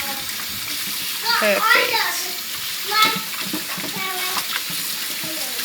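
Chicken drumsticks are rinsed under a running kitchen tap, with a soft steady water rush and brief splashy bursts, and a voice says a word partway through.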